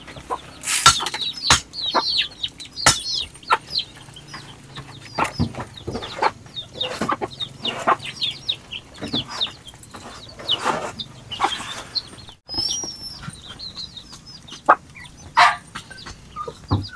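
Hens and other farmyard chickens cluck and squawk nearby, with frequent short calls and clucks scattered irregularly over a quiet rural background.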